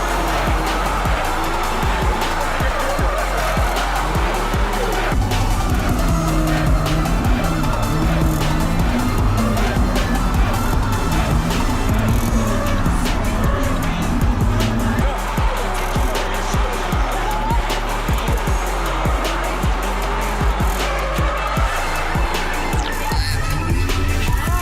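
A Mazda MX-5 Miata drift car screams through a drift session at Aldershot, engine revving in waves with repeated tire squeals and skids, loud and close, with voices in the background.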